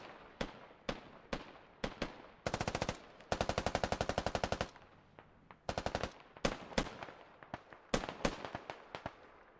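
Automatic and single gunfire from the military shooter game Squad, loud sharp bursts and rapid strings of shots in repeated volleys, with no talking.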